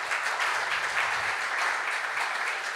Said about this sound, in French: je pense qu'on peut l'applaudir une dernière fois